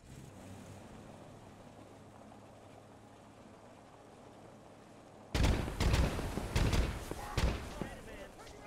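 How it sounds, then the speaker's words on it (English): A vehicle engine idles faintly with a low drone in the Gates of Hell game, then sudden loud bursts of explosions and gunfire break in partway through. "I turn the engine on."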